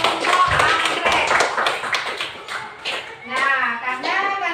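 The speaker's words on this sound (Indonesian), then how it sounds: "Tepuk tangan dulu untuk anggrek." Classroom audience clapping in a burst of applause, with children's voices and talk mixed in over the clapping.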